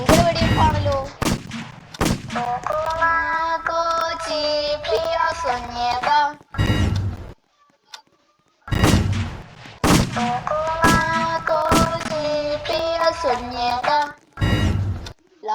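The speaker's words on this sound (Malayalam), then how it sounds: "ഭയങ്കര വെടിവെപ്പാണല്ലോ." Sharp gunshot bursts from a Squid Game video game punctuate a loud, melodic tune, with brief quiet gaps between the passages.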